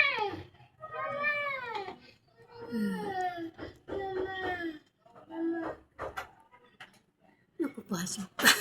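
An orange cat meows repeatedly in drawn-out, wavering cries, close by, with short pauses between calls and a brief rustle near the end.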